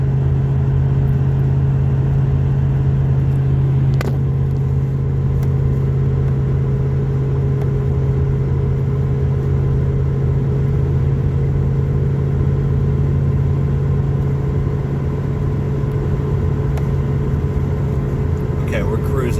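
Car climbing a small hill on an interstate at highway speed, heard from inside the cabin as a steady, loud engine and road drone that holds constant throughout with no clear shifts.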